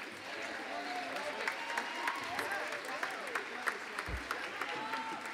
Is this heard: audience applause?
yes